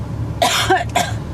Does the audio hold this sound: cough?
yes